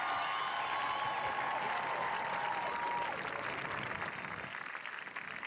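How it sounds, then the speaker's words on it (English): A crowd at a track meet applauds mile runner Allie Zealand after her record-setting win, the clapping fairly distant and blended with crowd murmur and a few whistles, fading slightly toward the end. "One more big round of applause"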